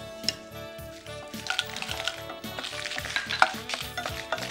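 Red chillies frying in a little oil in a pan, a soft sizzle broken by rhythmic light scraping and clinking from stirring, fairly quiet, with no talk.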